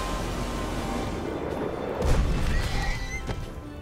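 A horse whinnies loudly in the fantasy video game Magicka. A booming crash cuts in midway, and the neigh and game effects ring out without any talk over them.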